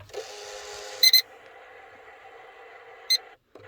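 A Glowshift Elite gauge in a first-generation Cummins truck emits two short, sharp electronic warning beeps about two seconds apart over a steady faint electrical hum.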